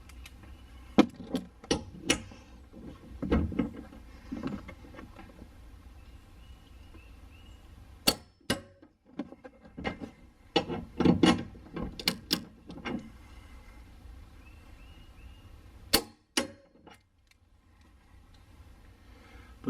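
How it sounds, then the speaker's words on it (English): A torque wrench tightens bolts on a Nismo rear trunk brace in an R32 Skyline GTR, sharp metallic ratcheting clicks arriving in scattered bursts with quiet gaps, close and fairly loud. "I'm going to get the torque wrench set and torque them down."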